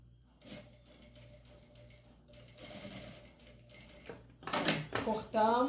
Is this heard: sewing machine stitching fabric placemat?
yes